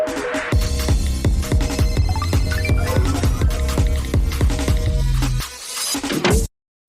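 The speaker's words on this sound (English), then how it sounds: "Hear that? That's my alarm clock." A rapid, ringing electronic alarm clock tone repeats for about six seconds, loud and close with a dense metallic chiming texture, then cuts off abruptly into silence.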